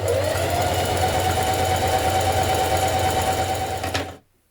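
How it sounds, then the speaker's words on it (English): A sewing machine stitches down the raw edge of fabric, running at a steady, loud, even whir for about four seconds before stopping abruptly, with no talk. "And you're just going to stitch down the side like this."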